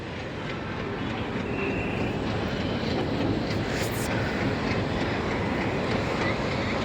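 A train rumbles steadily at Cherlapally railway station, producing a loud, continuous broadband roar that stays nearby and unbroken for about seven seconds.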